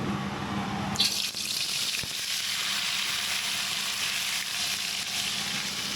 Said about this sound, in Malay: kita kena goreng ayam dulu